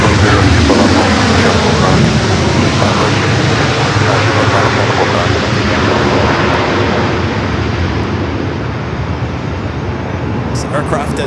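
A Qatar Airways Airbus A350-1000 heavy jet rolls for takeoff at LAX, its loud, dense engine roar sustained throughout and easing slightly toward the end, with a voice talking over it.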